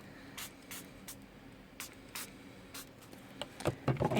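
Quick bursts from a spray bottle spritzing homemade color wash at irregular intervals, about eight short hissing puffs, close and fairly quiet, followed by some handling noise.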